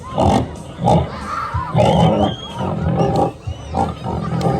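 Young children in a farm puppet-show audience imitate a pig together, giving several loud bursts of grunting, roaring voices in an uneven rhythm, with some crowd noise between the calls.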